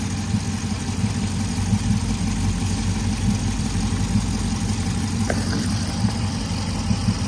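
A car engine idles steadily with a suspected belt problem, a continuous low rumble with a mid-range drone, running alone without talk and with a brief faint tick midway.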